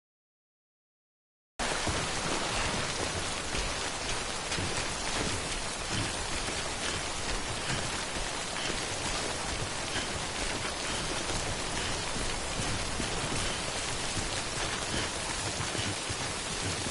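Steady, dense rain falls in the video game Death Stranding, a loud, even hiss of drops that starts abruptly after a moment of silence and continues unbroken, with no voices.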